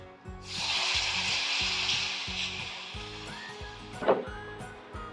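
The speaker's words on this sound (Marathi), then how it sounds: "आता यामध्ये घालूयात पाणी" Water is poured into a hot pan of red chili powder, salt and spice mixture, setting off a loud, steady hiss of sizzling that slowly fades, with a brief clatter near the end over background music.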